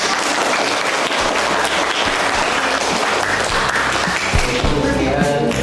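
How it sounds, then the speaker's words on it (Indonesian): An audience at a school museum learning event applauds, giving dense, sustained clapping heard loud and close throughout, with a few voices mixed in. "Tepuk tangan semua."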